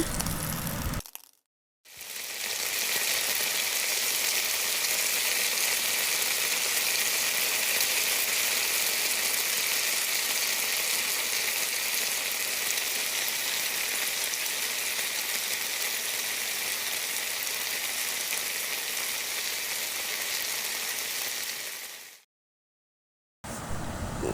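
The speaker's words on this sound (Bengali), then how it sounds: "আমি গোলাকার করে পাকোড়াগুলো দিয়ে দিব ফ্রাই প্যানের মধ্যে।" Potato and carrot pakoras fry in a pan of oil, a steady broad hiss that holds loud and even for about twenty seconds between brief silent gaps, with no talking.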